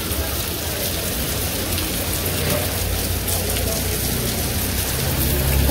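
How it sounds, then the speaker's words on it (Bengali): Heavy rain pours down in a village, a dense, constant roar of drops on surfaces that holds steady the whole time. "তো বৃষ্টি কিন্তু আবার যে জুড়ে নামছে।"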